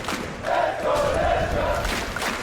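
A large esports arena crowd at a CS:GO match between GamerLegion and Heroic on Mirage swells into a sustained roar of cheering, loud and continuous for a couple of seconds.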